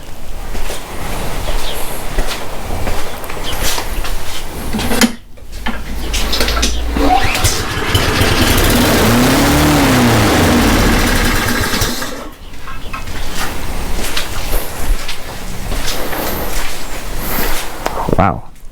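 A self-propelled lawn mower engine, fitted during an engine swap, runs at excessively high RPM with a loud, steady, buzzing drone. It cuts out briefly twice, and a person talks over it.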